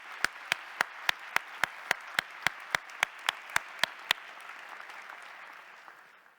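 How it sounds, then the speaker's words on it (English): An audience applauds at an academic opening ceremony, with sharp, evenly spaced loud claps standing out above a softer bed of crowd clapping that fades away toward the end. "A round of applause for them because they have saved us from the pandemic."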